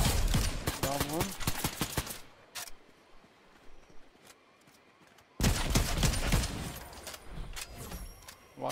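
Gunfire in a Fortnite squads match comes as rapid bursts of sharp shots in two clusters, at the start and again after a quiet stretch, mixed with game effects and occasional voices.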